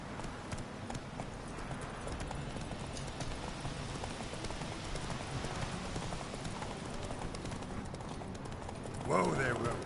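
Steady rhythmic hoofbeats from Roach, the horse in The Witcher 3, galloping at a moderate distance in a continuous clip-clop, with a brief louder voice near the end.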